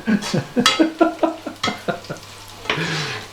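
A spoon scrapes a pan in rapid, rhythmic strokes, about a dozen loud, close scrapes in a row, followed by a longer smeared scrape at the end.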